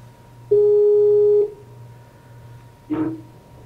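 A telephone call is dialed through a live-stream setup, giving one steady ring tone of about a second followed by a shorter second tone, heard alone over a low background hum.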